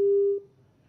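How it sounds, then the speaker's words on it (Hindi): A single loud, close telephone tone sounds as a live TV call-in caller's line disconnects, cutting off after a fraction of a second into near silence. "लगता है उनसे हमारा संपर्क कट गया"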